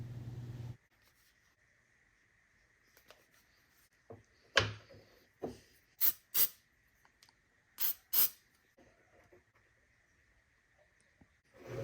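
Spray adhesive is sprayed onto the bottom of a small wooden Christmas tree in a workshop, with several short, sharp hissing bursts between quiet pauses and light handling noises.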